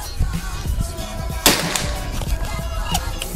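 One sharp, snappy PCP air rifle shot cracks out midway through steady background noise, close and fairly loud, during an accuracy test.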